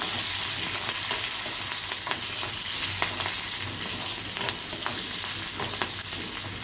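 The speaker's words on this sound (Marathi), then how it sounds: "त्यानंतर टाकायचं आहे हिरवी मिरची. असा आवाज आला ना की समजायचं सगळी छान मस्त जमलेली आहे" Green chillies frying in hot oil with garlic in a pan for an okra dish, a steady loud sizzle with crackling pops running throughout.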